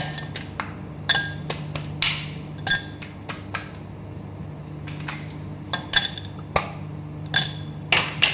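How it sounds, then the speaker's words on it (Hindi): Ice cubes dropped into a glass for Coke Zero, a series of sharp clinks and knocks arriving in irregular bursts, some clustered and some spaced apart, close up over a quiet steady hum. "अब बर्फ़ थोड़ा डालेंगे ग्लास में"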